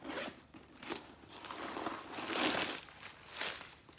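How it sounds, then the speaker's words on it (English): A zipper on the inside closure of a leather-trimmed purse is pulled open in several rasping strokes, close and fairly loud with no talking. "The inside is a zipper closure."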